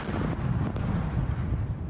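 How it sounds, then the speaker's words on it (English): Police test detonation of a real ammonium nitrate bomb, heard as a continuous loud, low rumbling roar with wind-buffeted booming that sustains throughout, no voices present. "This test explosion of a real bomb by police played in court showed a jury what the chief says was the real intent"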